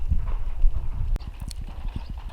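Horse hooves clip-clop on a rural village track in the Svaneti highlands of Georgia, a steady close run of hoofbeats that carries through the whole short stretch.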